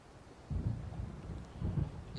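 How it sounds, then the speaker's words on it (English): Low rumbling thunder from a storm in the video game Alan Wake, two swelling rolls of distant thunder over a steady windy background with no voices. "There's a storm coming."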